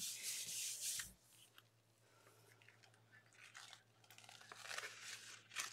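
Paper is rubbed by hand onto a gel press plate, giving soft, close scuffing and rasping strokes that come in bursts with quieter gaps between them.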